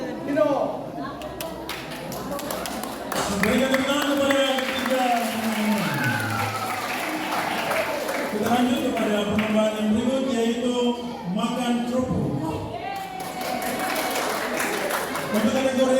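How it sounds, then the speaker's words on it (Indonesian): At a church anniversary celebration, an audience claps for three competition winners, a scattered patter of hands running beneath someone speaking over a microphone throughout. "Berikan tepuk tangan kepada ketiga pemenang."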